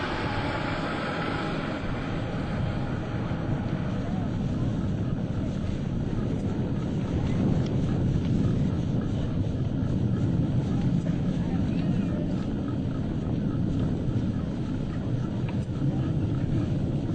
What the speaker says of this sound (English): Very shortly, all 6 aircraft will be approaching for the Blue Angel fleur-de-lis.